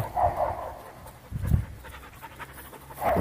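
A young dog pants softly nearby in quick, uneven breaths, with short pauses between bursts.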